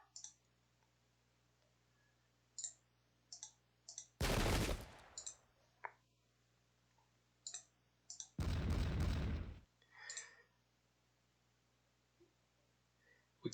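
Musket volley gunfire in the strategy game Pike and Shot, two loud crackling bursts of massed shots a few seconds apart, set among sparse interface clicks and quiet background hum, no talk.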